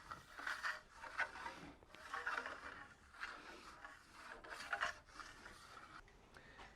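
A blade rides its bevel across hardened Venetian plaster, producing repeated raspy scraping strokes in a steady back-and-forth rhythm, close and fairly quiet, with no talking.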